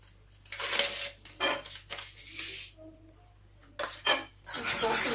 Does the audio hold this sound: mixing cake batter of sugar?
yes